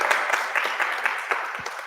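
An audience claps together, a dense, steady patter of many hands at moderate loudness with small swells, continuing throughout without a break.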